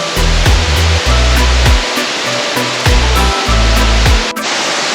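A waterfall in Bali roars as a steady, dense wash of falling water. Loud and close, it is heard alone, with low thumping bursts from wind buffeting the microphone.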